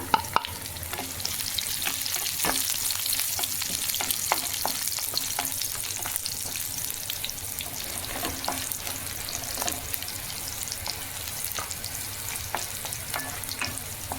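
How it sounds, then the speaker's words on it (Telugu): Three broken dried red chillies sizzle in hot oil in a pan for a cucumber-tomato chutney, a steady close crackling hiss punctuated by irregular scrapes and clicks of stirring, with no voices. "ఇప్పుడు ఎండుమిర్చి ఒక 3 కాయలు తుంచేసిన"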